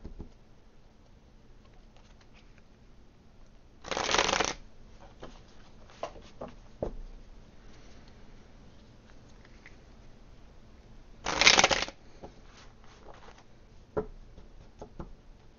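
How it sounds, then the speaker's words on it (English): Tarot cards are shuffled in two short, soft riffling bursts about seven seconds apart, with quiet taps and small handling clicks in between, close and faint. "Takes a while to get the cards shuffled up."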